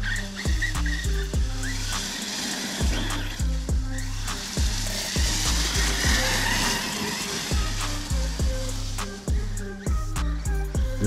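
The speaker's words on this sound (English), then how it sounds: "There's some drifting here in the leaves." An Outcast 6S EXB RC car drifts through leaves, its electric motor whining in rising, repeated surges with skidding tire noise and scattered rustle throughout.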